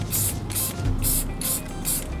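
An aerosol can of warm caramel Ultra Cover paint hisses in five short, even bursts, sprayed from above onto printed tabletop terrain, close and fairly loud against a quiet room.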